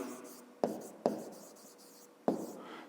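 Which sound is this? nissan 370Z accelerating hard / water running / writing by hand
writing by hand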